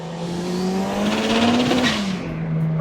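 A 650-horsepower Eagle Talon DSM car accelerates hard with its wheels spinning, a loud, close engine note climbing steadily in pitch, then dipping slightly near the end, with tire noise underneath.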